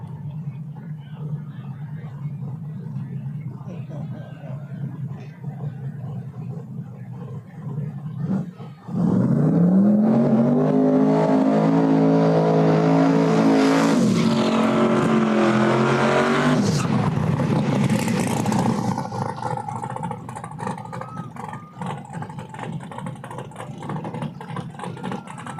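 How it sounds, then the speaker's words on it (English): A third-generation Chevrolet Camaro launches in a small-tire no-prep drag race at Flying H Drag Strip, engine noise swelling into a loud roaring pass for several seconds, then fading back into distant track ambience. "Got the third gen Camaro here on the left lane going up against Brandon Morton over here in the right lane"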